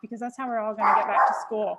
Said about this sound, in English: Sorry about that dog